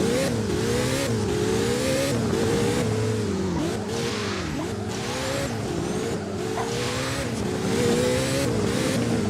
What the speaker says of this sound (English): Let's go ahead and accelerate now.